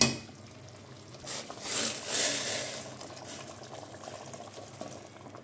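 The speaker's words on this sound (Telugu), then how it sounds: "ఈ విధంగా మరుగుతుంది చూడండి," Water boiling in a pot for Karnataka-style chicken donne biryani, a soft steady bubbling with a swell of louder bubbling in the middle, faint and close.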